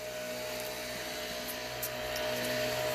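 A steady motorized drone from outdoor lawn equipment hums continuously at a distance, muffled and unchanging, with no speech.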